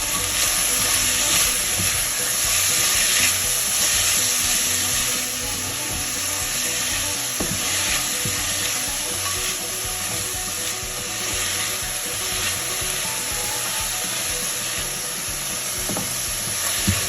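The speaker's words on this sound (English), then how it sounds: "Add some salt so that the onions cook" Onions frying in a pan with salt added, giving a steady, close hiss and sizzle throughout with occasional faint stirring scrapes and no talk.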